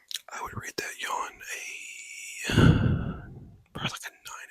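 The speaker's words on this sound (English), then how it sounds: "That was a pretty good yawn." A person on a Tennessee deer hunt gives a long, drawn-out, breathy yawn that swells into a low groan, with soft whispered speech just before and after.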